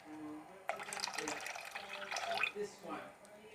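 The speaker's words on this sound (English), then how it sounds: "I'm adding a bit of cold water." Cold water is poured into a mixture, a close splashing and trickling pour that starts abruptly and tapers off in a few seconds, with a person talking.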